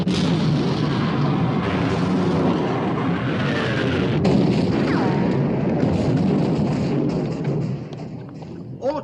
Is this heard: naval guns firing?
yes